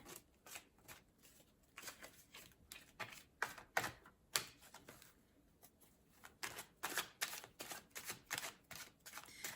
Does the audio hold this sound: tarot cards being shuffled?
yes